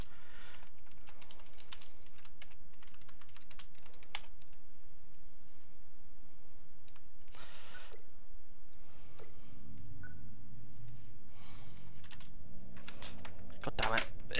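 Intermittent key taps and clicks on a four-to-five-year-old computer keyboard, close and sparse with quiet gaps, a low hum joining near the end.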